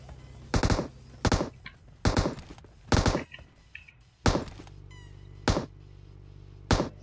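Crossbow shots in a video game land as a string of sharp, heavy thunks at irregular intervals, about seven loud impacts with short ringing tails and brief quieter sounds in between.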